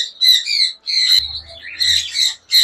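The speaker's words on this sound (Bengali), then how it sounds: "আমি তোতা পাখির বাচ্চারা আপনাদের এখন দেখাবো" Shrill, raspy squawks from parakeet chicks at a bird shop in several loud bursts, close by, with short gaps between calls.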